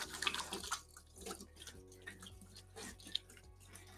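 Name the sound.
washing hands under running tap water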